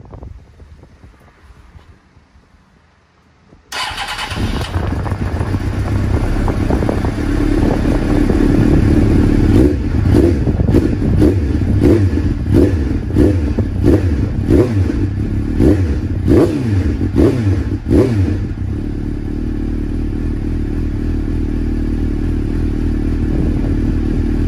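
A motorcycle engine idles after a Sea Foam SF16 motor treatment, starting abruptly after a few quiet seconds and running loud and steady close by, with a choppy, uneven patch before settling into a smoother drone, wind buffeting the microphone.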